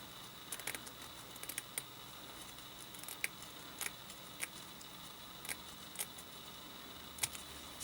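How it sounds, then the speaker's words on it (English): Scissors snip a thin strip off the edge of a short piece of ribbon, giving a series of small, close, crisp clicks at an uneven pace against quiet background hiss. "just cut a thin strip off the edge"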